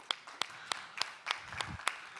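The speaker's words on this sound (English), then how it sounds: "and this is my applause for you" Sparse, spaced claps from a single person at a university panel session, about seven sharp hand claps at a slow, steady rhythm, fairly quiet and close, with no talk over them.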